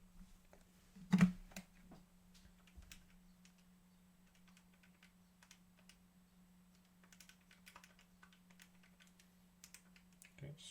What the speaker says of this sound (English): Okay, just typing it in now.